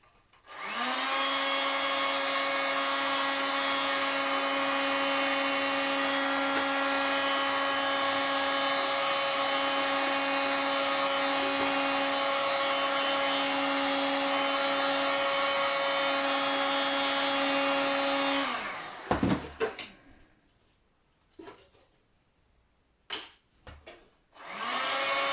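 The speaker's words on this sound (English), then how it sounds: "I'm going to apply some heat and flip from side to side when I'm doing so" A heat gun blows steadily and evenly while shrinking Doculam covering on model aircraft tail surfaces for a Nieuport 24, a constant whirring drone that cuts off, followed by a few soft handling knocks.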